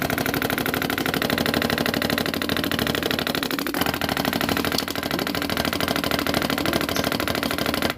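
A motorcycle engine idles steadily after its ignition contact points are replaced, a continuous close mechanical chatter with a fast, even ticking pulse and no pauses over eight seconds.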